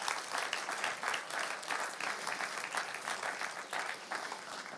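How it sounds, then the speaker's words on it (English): At a European small-retail award ceremony, an audience claps as a guest comes to the stage: steady, rhythmic applause from a hall full of people, moderately loud and with no talk over it. "Look, you got clapped up until you came to the stage"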